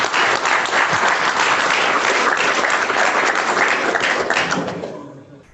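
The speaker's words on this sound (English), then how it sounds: "let's give Sheila and Lukehart another round of applause" Audience at a medical lecture gives dense, sustained applause for the presenters, loud and close, holding steady for several seconds before tapering off at the end.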